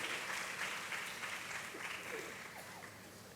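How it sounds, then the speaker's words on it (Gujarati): A seated assembly at a religious festival in Vadtal claps to honour a lecture, a sustained room-filling round of applause that slowly thins and fades toward the end. "તાળીઓના નાદથી એમના વ્યાખ્યાન પ્રવચનને વધાવીએ"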